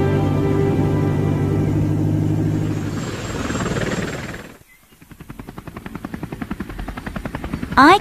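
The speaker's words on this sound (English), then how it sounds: "My helicopter." Cartoon helicopter flying, a steady loud whirring rotor drone that fades, followed by rapid rhythmic blade chopping pulses that continue to the end.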